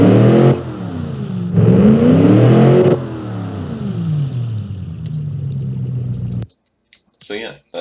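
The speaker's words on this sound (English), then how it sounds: "Now let's see how the engine sounds." A car engine built in the game Automation revs and rises in pitch in long sweeping bursts, loud and close, then cuts off, followed by a few sharp clicks.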